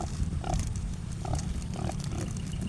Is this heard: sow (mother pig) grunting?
yes